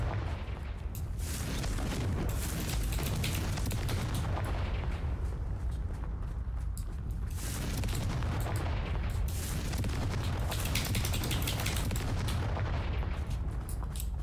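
The Confringo blasting spell in Hogwarts Legacy unleashes a continuous barrage of booming explosions and crackling bursts that rolls loudly and densely throughout, with no break.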